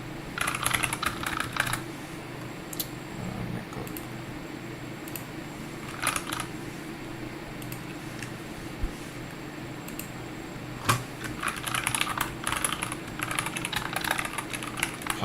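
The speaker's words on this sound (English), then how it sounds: "Let me just type it out. I think it's easier to type out." Clicky typing on a computer keyboard comes in several bursts of quick keystrokes, separated by quieter pauses over a faint steady fan hum.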